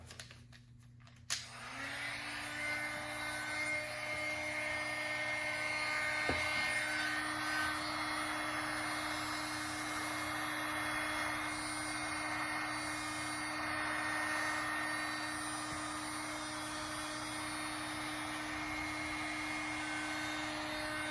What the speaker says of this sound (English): we'll use the mini heat gun. And just dry it.